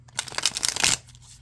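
A thick-cardstock Spacious Tarot deck shuffled overhand, a brief close burst of rapid papery riffling and flicking that builds to a denser flurry before stopping.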